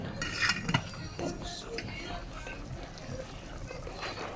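Metal clinks of a pot lid being set back on a cooking pot of pinapaitan, a few quiet clanks early on over faint sizzling, while a voice talks.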